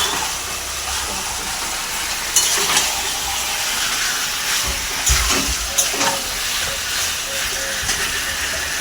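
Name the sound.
roti flatbread cooking in a pan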